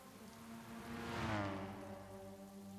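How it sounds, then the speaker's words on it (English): Rain pouring down during a wet Gr.4 race on the Nürburgring GP circuit in Gran Turismo 7, a steady broadband hiss that swells in the middle and holds over a low engine drone. "Whoa, that rain is coming down."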